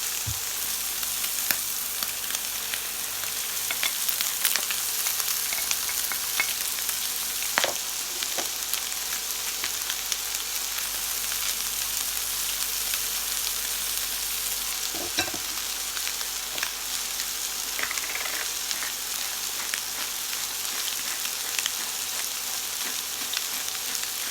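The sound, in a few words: vegetables frying and sizzling in a pan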